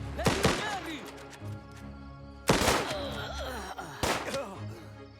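Gunfire in a video game: three loud, broadband blasts at irregular intervals over busy game sound and background chatter, with voices talking throughout.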